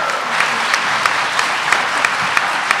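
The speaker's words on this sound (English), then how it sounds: "Give Sharice Johnson a big round of applause." Audience at a governor's after-school programs announcement applauding for a winner on stage, giving a full, close burst of clapping with rhythmic accents, steady across the whole moment.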